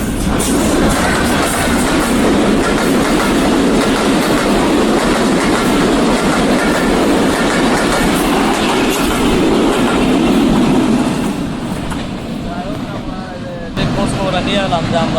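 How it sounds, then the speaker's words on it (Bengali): A train pulls into a railway station and rolls past, a loud, continuous rumble of wheels and carriages with clickety-clack that eases slightly toward the end, with voices faintly audible beneath. "ট্রেন আসতেছে।"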